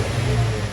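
A 2002 Nissan Altima engine idles after a high-idle and surge repair, a low, even rumble with a steady hum and no revving, heard briefly and fairly close.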